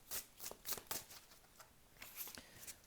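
Oracle cards are shuffled by hand for a card reading. Soft, close, rapid riffling and flicking comes in quick uneven bursts, faint and alone.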